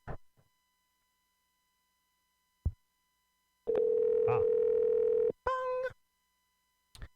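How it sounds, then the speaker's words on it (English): Telephone dial tone, a steady hum that runs for under two seconds before breaking into a quick series of keypad tones, with short clicks from the handset before and after. "Let me hope I can dial quick."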